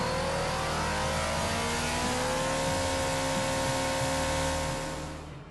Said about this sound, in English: the last half hour is always spent on a test bench, with the engine running at every speed from idle to redline